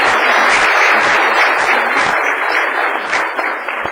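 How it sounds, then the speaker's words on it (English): Sustained applause at a city council meeting fills the room, a steady, loud wash of many hands clapping throughout without voices. "So let's give Sabrina a round of"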